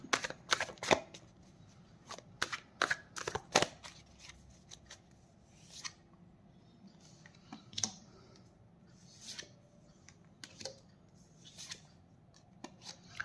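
Tarot cards are shuffled close by in quick riffling bursts, dense and crisp at first, then sparser slaps and flicks of cards with pauses between them.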